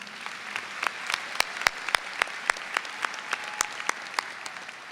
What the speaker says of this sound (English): Let's give one more round of applause to our valedictorians and salutatorian